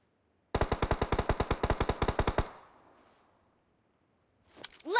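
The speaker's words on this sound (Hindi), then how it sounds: "इधर कहाँ बंदा फायर कर रहा है।" Gunfire in the BGMI mobile battle royale game: a loud, close burst of rapid automatic fire lasting about two seconds, then a fading tail, near-silence and a short rising sound at the end.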